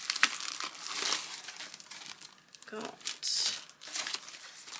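Paper envelopes, cards and paper bags rustle and crinkle as they are rummaged through, in irregular bursts of crisp handling noise, with a voice speaking briefly over them.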